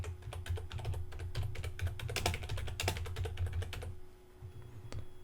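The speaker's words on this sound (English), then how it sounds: "I'm going to type the text that I want." Close, quick keystrokes on a computer keyboard rattle in rapid bursts for about four seconds while text goes into a WordPress page, then stop, leaving a faint hum and one last key tap.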